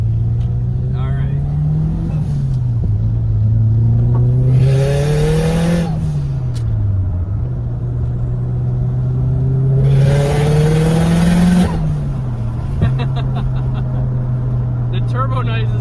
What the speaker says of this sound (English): The turbo noises that come out of this car are everything every car guy wants to hear.